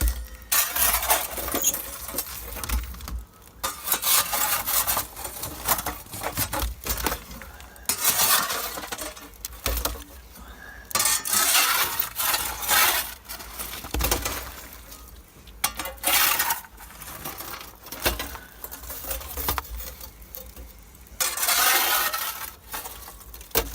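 A metal peel scrapes and shifts burning coals around inside a wood-fired oven, producing repeated clinking, grinding scrapes and rustling bursts up close.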